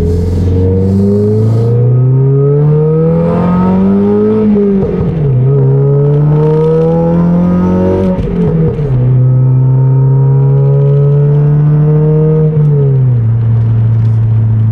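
Steady low engine drone and exhaust rumble of a 2022 Toyota Corolla hatchback with full exhaust and stage 2++ tune, heard from inside the car, rising and falling with revs, loud and continuous throughout.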